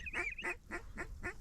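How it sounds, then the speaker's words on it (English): Mallard ducks calling during a rainy duck hunt, a quick run of five raspy quacks in even rhythm, moderately close and faint against background noise. "I think those are mallards."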